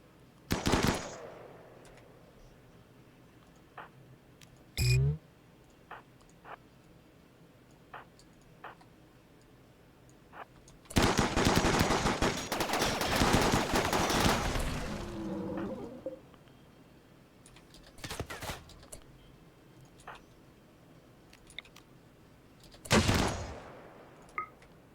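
Gunfire in a sci-fi colony-building game: scattered single distant shots and ticks, a few sharp cracks, and one long burst of rapid automatic fire in the middle, with no talk.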